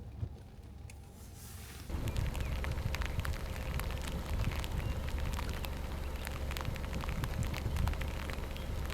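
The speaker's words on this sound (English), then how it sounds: "It's still raining up here in Cache County." Rain falling outdoors in Cache County, Utah: a faint, even patter starts a couple of seconds in and then holds as a constant hiss of drops with no voices.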